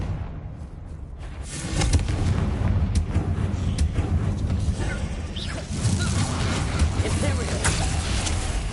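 Explosive Confringo blasting spells cast in the Hogwarts Legacy game, heavy booming crashes and rumbling bursts layered over dense combat noise, with a voice calling out amid the din.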